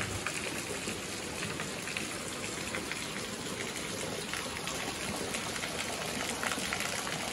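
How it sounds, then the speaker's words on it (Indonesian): Steady rain pours down outside a small three-room rented house just after laundry was hung out to dry, a dense, even hiss that holds at constant loudness for the whole stretch with no voices. "baru aja selesai jemur terus hujan turun"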